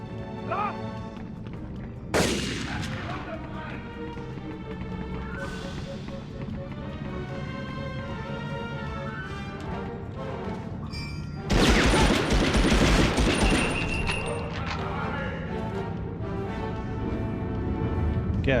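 Rapid video game gunfire in a 1944 war setting, bursts layered over a dense music score, with a louder stretch of shooting partway through; people talk over it.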